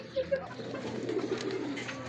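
A racing pigeon coos softly nearby during a summer race, low murmuring calls over a light background hum.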